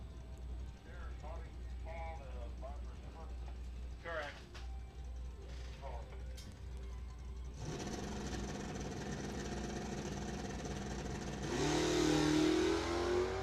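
A Barracuda and a Camaro launch at a county dragway, the engines swelling from idle into a loud sustained roar, with an announcer speaking over the start.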